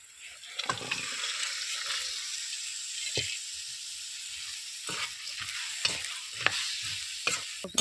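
Ingredients stirred into moong bean curry in a hot pan, sizzling and frying with scraping stirs and a few sharp clinks of a spoon against the pan, close and fairly quiet.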